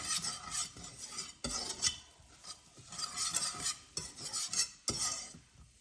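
Flour being stirred and toasted in a soup pot for a creamy chicken and wild rice soup, heard as steady scraping and stirring strokes with a light sizzle, close and fairly loud, with no talking.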